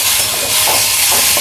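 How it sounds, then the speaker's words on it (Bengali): Spices frying with ginger paste and salt in a hot pan for a fish sukto, a loud, close, steady hissing sizzle with slight surges, no voices. "আদাটাকে দিয়েও আমি ভালো করে এটাকে ভাজবো।"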